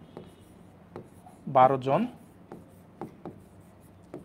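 A pen writes out a math problem on paper with short scratchy strokes and taps spread through the clip, close and fairly quiet, with one brief burst of voice partway through.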